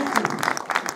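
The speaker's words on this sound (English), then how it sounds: "A round of applause for Nathan there." Brief scattered clapping from a small audience at a family science show during a Butlins science weekend in Bognor Regis, a light round of applause for a child volunteer, with a voice partly over it.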